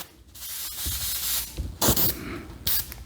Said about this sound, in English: I'm just going to come in and I'm going to spray some diagonals